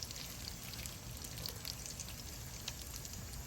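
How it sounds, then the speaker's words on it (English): Potato-stuffed bread rolls deep frying in oil, a faint, steady crackling sizzle with scattered small pops running evenly throughout, no talk. "fry till golden brown."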